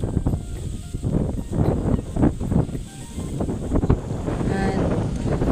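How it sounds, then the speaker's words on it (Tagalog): Strong wind gusting across a hilltop at Landthaihills in Lombog, Guindulman, Bohol, roaring steadily and buffeting the microphone for several seconds. "At pag nasa tuktok kayo ng bundok guys, sobrang ang lakas ng hangin."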